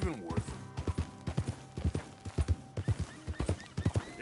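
A horse's hooves clip-clop steadily in Red Dead Redemption 2, close and prominent, with a brief whinny near the start and a voice talking over part of it.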